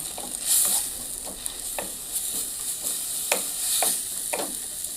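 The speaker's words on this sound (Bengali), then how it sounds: "এবার আমি নাড়াচাড়া করে নেব" Turmeric, chilli and cumin powders fry in a pan with a little oil while a spatula stirs them, giving a steady close sizzle broken by irregular scraping strokes.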